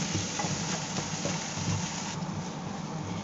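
Crushed garlic and ginger sautéing with onions in a pan, a steady broadband sizzle that holds evenly throughout with no talk.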